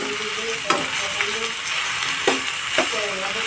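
Ingredients being sautéed in a pan for ginisa with coconut heart, a steady bright sizzle with repeated sharp stirring clicks, close up, with faint voices in the background.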